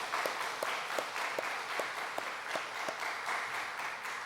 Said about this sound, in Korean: 박수 한번 했으면 좋겠습니다